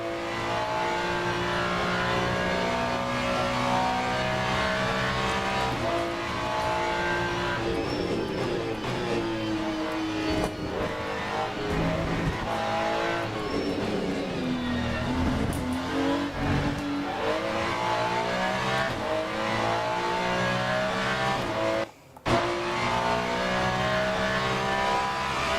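A GT3 race car in Le Mans Ultimate revs hard through the gears, its engine note rising and falling with downshifts and brief tire squeal around corners, loud and close, with a sharp cut near the end.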